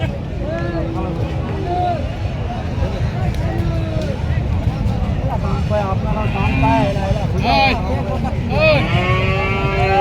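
Bulls bellowing and mooing at a busy rural cattle market in Joypurhat, Bangladesh: repeated deep, drawn-out calls from several animals, some near and loud, over constant crowd chatter and people talking nearby.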